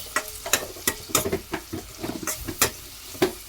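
Spices with turmeric and ginger-garlic paste are stirred in a hot pan, giving sharp, irregular scraping strokes over a crackling sizzle, close and fairly loud.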